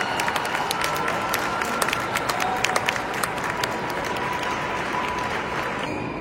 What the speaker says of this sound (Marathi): म्हणून सगळे टाळ्या वाजवत आहेत.